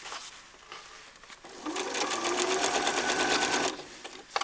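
A sewing machine stitches a hood, starting with a few quiet clicks, then running in a steady, fast, buzzing whir for about two seconds before it stops abruptly.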